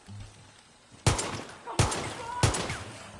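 Three sharp, loud gunshots with explosive rounds in the Far Cry 6 shooter game, evenly spaced about two-thirds of a second apart over a quiet background.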